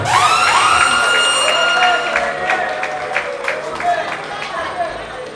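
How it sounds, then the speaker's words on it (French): A crowd at a comedians' celebration breaks into loud clapping and cheering that swells at first, then thins into scattered applause as a voice speaks over it. "Est-ce qu'on peut applaudir un peu très très fort?"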